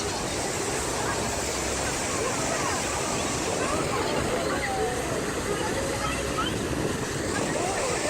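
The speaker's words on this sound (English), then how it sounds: "as we start to get like really close to the falls, the waves start to pick up a lot" Waves and rushing water close to waterfalls in Canada heard from a boat, a loud, steady broadband roar with wind buffeting the microphone.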